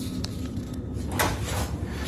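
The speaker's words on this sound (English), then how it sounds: "The sound of the basement door rattling and creaking is identical to before" An old basement door rattles and creaks in a spooky house setting, a brief wooden knock and clatter near the start followed by a rising creak, fairly close, with a low rumbling background and no talking.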